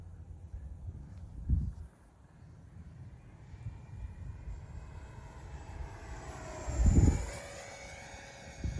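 Electric ducted fan on an A-7 Corsair II model jet running at full power, a steady whine with low rumbling swells, fairly quiet and moderately near.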